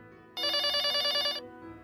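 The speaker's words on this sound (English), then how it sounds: "Then the phone rings." An electronic telephone bell in a video game rings in one loud, bright, trilling burst of about a second, then cuts off over quiet background music.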